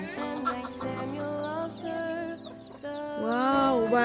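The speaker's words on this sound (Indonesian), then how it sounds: "Wow, banyak ayamnya." Many chickens in a sunny pen at a rainforest farm, clucking and squawking in overlapping calls close by, with one louder drawn-out crow-like cry near the end.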